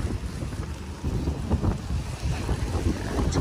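Strong wind gusts buffet the microphone at a seawall, a dense roaring rush with surf-like churning beneath, steady and loud throughout with no voices.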